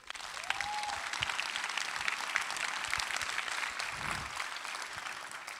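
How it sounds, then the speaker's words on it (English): Audience applause at the Wikimania 2024 closing ceremony for the Coolest Tool Award winners, a steady wash of many hands clapping throughout, fairly distant and even in level. "So round of applause, please."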